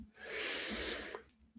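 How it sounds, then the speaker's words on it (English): Someone clears their throat once, close to the mic, in a short breathy rasp that swells and fades over about a second and a half, with no other talk. "Let me clear my throat and take a sip of tea."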